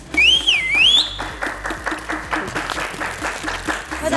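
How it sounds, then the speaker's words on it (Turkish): Applause from a studio audience on a reality dating show, steady clapping joined by a loud warbling whistle at the start, with some talk mixed underneath. "Ooo alkış!"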